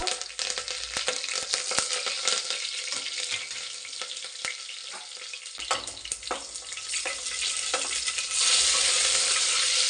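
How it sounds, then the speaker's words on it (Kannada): Garlic frying in a pan while making chicken biryani, a steady bright sizzle with frequent spoon taps and stirring clatter, close by, the hiss swelling louder near the end. "ಹಸಿ ಸ್ಮೆಲ್ ಹೋಗೋವರೆಗೂ ಒಂಚೂರು ಫ್ರೈ ಮಾಡಿ"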